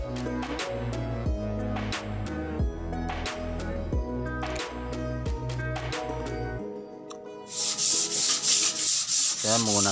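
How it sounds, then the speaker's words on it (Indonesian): Sandpaper rubbed by hand over wood to expose the grain before a French polish finish, with steady rhythmic back-and-forth strokes, close and moderately loud, over a continuous background tone. "diamplas terus sampai terlihat serat kayunya"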